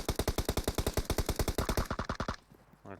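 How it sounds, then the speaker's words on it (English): Rapid, evenly spaced M4 rifle fire in the PUBG Mobile video game: about two dozen crisp close shots in a quick burst, then it stops and a faint short rattle follows. "Tapping away with the M4, trying to see if he can get himself some headshots"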